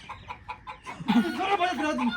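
An agitated hen clucks in a quick series of short calls, then a person starts talking over more clucking close by.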